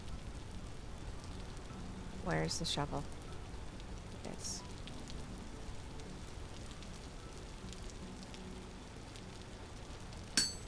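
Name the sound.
rain in the video game Vintage Story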